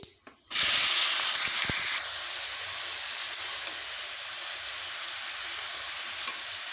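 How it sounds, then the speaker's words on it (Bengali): Shredded cabbage drops into a hot pan of fried whole garam masala, setting off a loud burst of sizzling and hissing that eases after two seconds into a steady frying crackle with occasional stirring taps. "দিয়ে দেবো গোটা গরম মশলা ফোড়নটা আমার ভালোভাবে ভেজে নেওয়া হয়ে গেছে খুব সুন্দর সেন্ট বেরিয়েছে এবারে দিয়ে দেবো বাঁধাকপি"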